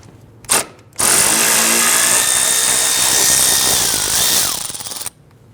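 A power tool spins out a 10mm bolt inside the fender area of a 1999-2004 Jeep Grand Cherokee, one sustained whirring burst of about four seconds after a short tap, loud and close.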